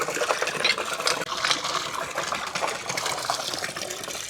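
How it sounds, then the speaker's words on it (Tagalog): Water pumped from a hose into a drum at home, a steady splashing gush filling the container throughout, loud and close with no talk. "Magbomba po tayo mga paps. Pupunan po natin yung drum."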